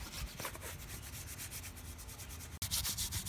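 Aluminum engine parts from a Duster 360 being scrubbed with an old kitchen scrubby sponge and mineral spirits, a close, steady back-and-forth rasping rub with a brief pause before resuming.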